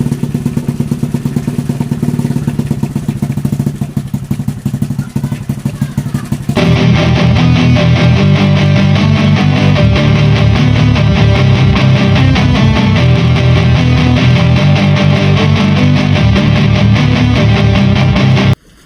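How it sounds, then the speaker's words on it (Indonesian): A Honda Revo Absolute motorcycle engine with a rough noise when the clutch is pressed idles with a steady clattering drone, growing louder and harsher partway through and cutting off abruptly at the end. "terjadi suara kasar jika ditekan koplingnya"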